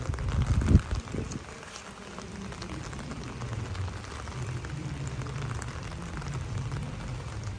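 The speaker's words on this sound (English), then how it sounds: "It is too cold, it is too rainy." Rain on a cold, wet day in The Villages, Florida, makes a soft, steady hiss after a louder thump at the start, with no talking.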